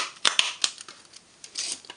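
Paper punch cutting out small paper ice cream pieces for a card, a few quick crisp snipping and crunching clicks up close, with no talking.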